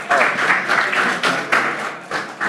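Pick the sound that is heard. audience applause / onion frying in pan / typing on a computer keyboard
audience applause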